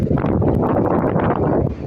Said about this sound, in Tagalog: Lakas ng hangin o.